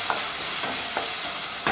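A spoon scrapes and stirs thick ground paste for tomato chutney in a pan over a constant loud sizzle of frying, with a few distinct strokes.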